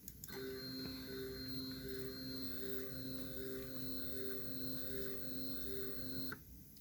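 The X-axis stepper motor of a DIY CNC mini mill gives a steady, faint whining drone for about six seconds, then stops with a soft click.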